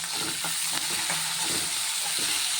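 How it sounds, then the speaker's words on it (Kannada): Chopped onions fry in oil in a pan after peanuts and curry leaves for bisibele bath, a dense steady sizzle with a few soft stirring scrapes, close and continuous with no talking. "ಈರುಳ್ಳಿ ಒಂದು ಸ್ವಲ್ಪ ಹೊತ್ತು ಚೆನ್ನಾಗಿ ಫ್ರೈ ಆಗಬೇಕು"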